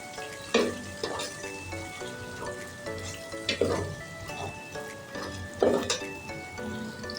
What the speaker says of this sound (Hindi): लाल मिर्ची पाउडर ऐड किया मैंने, अच्छे से मिक्स कर लें।